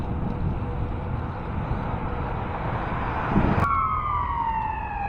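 An ambulance siren sounds in the distance behind steady traffic and wind rumble, and a sweeping wail rises clearly near the end.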